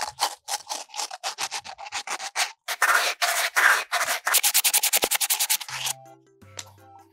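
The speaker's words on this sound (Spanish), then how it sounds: "ahora vamos a lijar los filos" Rhythmic gritty rasping of sandpaper scraping the edges of a metal deodorant can for a homemade cotton candy machine, a fast run of strokes in bursts, close and loud, then stopping.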